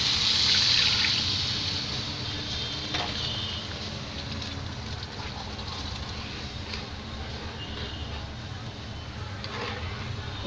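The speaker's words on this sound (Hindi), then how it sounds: "और मैं अब इसमें पानी डालूँगी" Water poured into fried curry masala for a rohu fish curry, a loud hissing, splashing rush at first that settles into a steady liquid sizzle and bubbling, with no clear talk.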